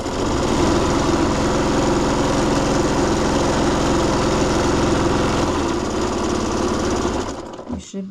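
A sewing machine stitches a seam on a court jester costume, running as a loud, fast, steady mechanical chatter close up for about seven seconds before stopping.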